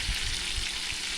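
Crab frying in a pan gives a steady, close sizzle and crackle with no pauses, heard alone for a little over a second.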